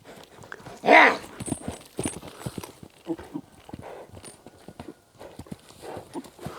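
Horse hooves clop in an uneven, irregular rhythm at close range, with one short, louder animal cry near the start, and no talk over it.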